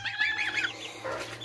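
Young goslings give soft, high peeping calls from close by, a brief cluster of thin chirps over a faint low hum.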